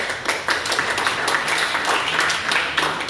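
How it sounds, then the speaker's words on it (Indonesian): Students in a speech contest on local wisdom clap for a fellow contestant, a close, brisk burst of clapping with individual hand claps standing out, lasting about three seconds. "tepuk tangan dulu untuk kawan kalian"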